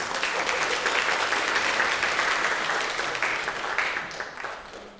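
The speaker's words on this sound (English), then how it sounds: "Round of applause, everyone." Sustained applause from a crowd at a fall choral concert, steady and dense for several seconds before tapering off slightly at the end.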